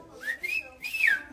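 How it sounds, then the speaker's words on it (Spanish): A person whistles to call someone, giving two clear, close, rising-and-falling whistle notes in quick succession against a quiet background. "Así le chiflas a tu hijo"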